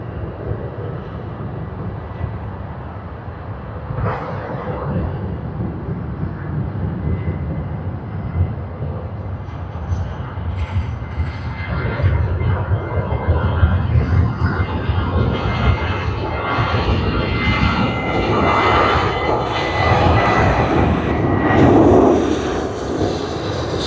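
Virgin Australia jet on flight VA569 from Sydney to Perth, a broad steady engine roar at an airport that swells louder in the second half, heard at a distance without speech.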